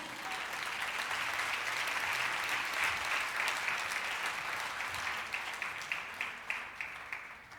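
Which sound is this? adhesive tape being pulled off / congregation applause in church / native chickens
congregation applause in church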